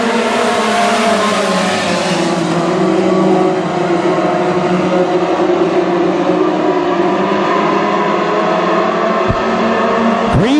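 WISSOTA modified race cars roar at full throttle after the green flag at Ogilvie Raceway, a loud, steady engine drone from the pack that holds throughout with shifting pitch.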